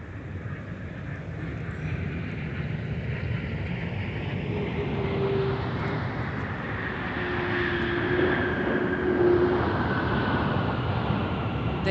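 An MD-11 airliner comes in to land at MSP airport with a broad, distant jet roar that slowly swells over about twelve seconds. There is a faint whine in the rush and no talking.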